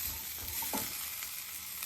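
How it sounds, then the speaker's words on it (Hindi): Small chicken pieces fry in a pan, giving a faint, steady sizzling hiss with a soft stirring scrape partway through and no speech. "अभी इसमें मैंने चिकन के छोटे छोटे पीसेस डाल दिए।"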